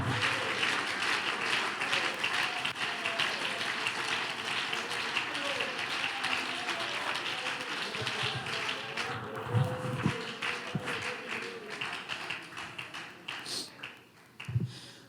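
A church congregation claps and applauds steadily, a dense sustained patter of many hands filling the room, fading slightly toward the end with a few louder thumps.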